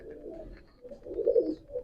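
A Panga bloodline pigeon, crossed lightly with a Pakistani bird and kept in a breeding setup, coos softly in low, rolling, murmuring phrases that swell briefly toward the end.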